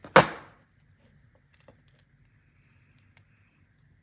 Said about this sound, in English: I'm gonna take my cutters and cut off the excess wire